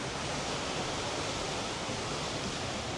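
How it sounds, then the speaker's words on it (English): Steady, dense rush of falling and splashing water from a giant water wheel on the river at Port Orleans French Quarter resort, a constant broadband wash with no pauses and no voices. "The big giant water wheel."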